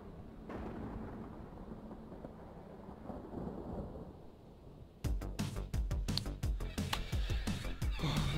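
Thunderstorm ambience from the video game Wolfenstein Youngblood: a steady rain wash with low rumbling, then a loud burst of crackling thunder and heavy clattering rain that stays intense to the end.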